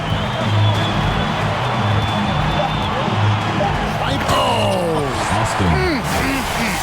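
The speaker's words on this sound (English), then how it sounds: "the crowd goes crazy after seeing that finish" A video-game basketball arena in NBA 2K22 during an All-Star Game, with a dense, loud crowd roar swelling after a dunk, under steady commentary and a few squeaks and bounces.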